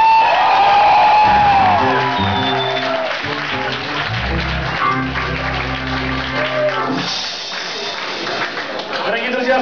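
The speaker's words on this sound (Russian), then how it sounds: "Под аплодисменты" A comedy concert audience in Kyiv bursts into loud applause with whoops and cheering, the clapping slowly fading over several seconds while someone speaks over it.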